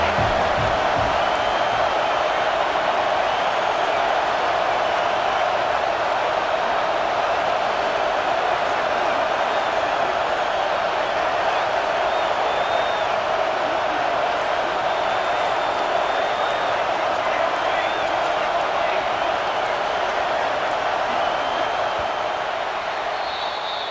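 Crowd noise at a football game in the College Football 26 video game, a constant loud roar of a stadium crowd that stays steady and dense for the whole stretch.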